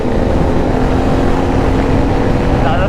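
A motorcycle engine runs loud and steady close by, its throttle blipped twice before a gear shift, a continuous rumbling drone with no clear pauses.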